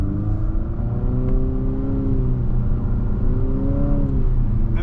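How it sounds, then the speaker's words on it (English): A 2025 Infiniti QX50 Luxe AWD with the 268-horsepower VC Turbo engine accelerates from low speed on a back farm road, its engine note rising steadily in two pulls, heard from inside the cabin with no talking. "and now we'll take off."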